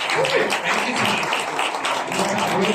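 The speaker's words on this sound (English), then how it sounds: "A big applause again." An audience at a tech talk on Flutter apps gives a steady round of clapping for the full length, dense and even, with a voice faintly mixed in.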